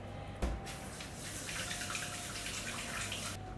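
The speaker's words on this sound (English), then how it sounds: "Just let me wash my hands." Tap water runs steadily into a kitchen sink while hands are washed, a broad continuous rush starting with a brief splash and holding close and moderately loud throughout.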